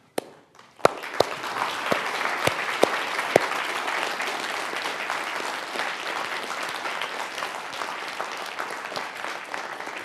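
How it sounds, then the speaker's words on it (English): An MIT artificial intelligence lecture audience breaks into sustained applause after a few sharp opening claps, a dense steady wash of many hands clapping that holds at even loudness through the end. "offer them a round of applause"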